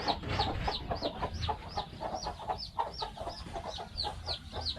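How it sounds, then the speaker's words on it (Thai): A backyard village hen clucking repeatedly near her chicks, a rhythmic run of close, moderately loud clucks with faint background noise. "นี่ครับแม่ไก่ลงมาแล้วพาลูกมาลงมานำตัวหนึ่ง"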